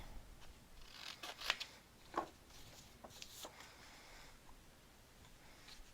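Scissors snip the corners of a paper pocket for a mini album, a few quiet, brief cuts close by with no talking.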